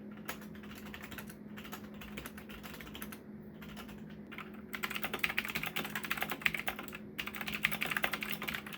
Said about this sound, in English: listening to the sound clip of how loud this particular keyboard is